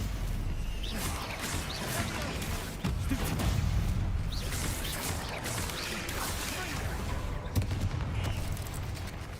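Spell combat in the video game Hogwarts Legacy, with fire and blasting spells such as Confringo and Incendio going off as a continuous barrage of loud bursts, crashes and booms.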